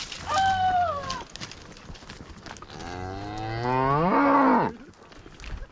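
Cattle being herded down a mountain canyon moo twice, the first a short call and the second a longer, louder, rising-and-falling low, both close by with no talking.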